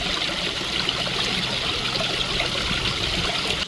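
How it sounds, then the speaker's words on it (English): Backyard waterfalls at full flow pour over a series of small cascades, giving a steady, close, full rush of water that holds unbroken throughout with no voices. "well the waterfalls are back up to full flow."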